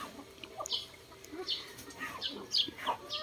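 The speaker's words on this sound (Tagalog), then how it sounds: "So pinapakain na po namin yung aming mga manok." Rhode Island Red chickens cluck and call softly while being fed, scattered short calls over a quiet background.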